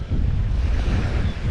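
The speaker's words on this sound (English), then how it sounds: "It's a local freshwater beach next to a lake" Wind and water at a freshwater lake beach, heard as a loud, steady rush of gusting wind with lapping surf underneath, continuous and close with no voices.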